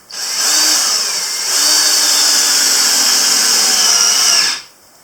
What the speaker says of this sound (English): And screw that in.